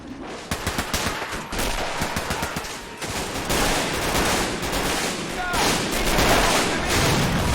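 Gunfire and explosions in Men of War: Assault Squad 2, in a 1945 German defense of Foy during the Battle of the Bulge: dense, continuous rattling bursts with heavy booms, loud and sustained, with someone talking over the battle.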